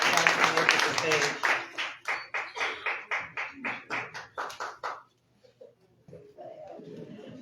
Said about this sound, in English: can y'all please give our candidates a round of applause?